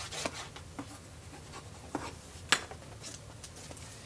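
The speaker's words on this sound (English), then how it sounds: "Use my bone folder." A bone folder presses and rubs paper for a mini album, giving soft close scraping strokes with a few sharper taps, quiet and with no speech.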